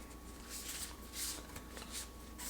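Tarot cards are shuffled in quick papery bursts, soft riffling sounds close by over a faint steady hum.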